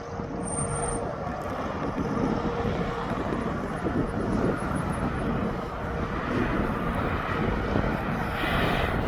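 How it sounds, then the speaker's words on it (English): A TUI Boeing 737 Max 8 airliner gliding down onto the runway at East Midlands Airport, a continuous broad engine roar and rushing air heard from a distance, steady and fairly loud, with no talking. "I will put you back onto that TUI as he's just glides down onto the runway."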